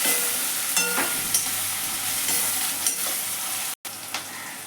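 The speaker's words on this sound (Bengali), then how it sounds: "দিয়ে পেঁয়াজটা লাল লাল করে ভাজা হোক।" Onions fry in oil in a pan, browning with a little sugar added, in a constant bright sizzle punctuated by several light stirring clicks and a brief dropout.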